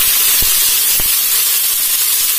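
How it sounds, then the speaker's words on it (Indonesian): Ground spice paste dropped into hot vegetable oil, a loud, steady hissing sizzle throughout with a couple of dull knocks near the start, no voices. "ini minyaknya sudah cukup panas. Saya masukkan bumbu yang saya haluskan tadi"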